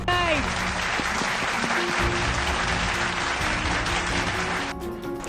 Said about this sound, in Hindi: पूरा हॉल तालियों की गड़गड़ाहट से गूंज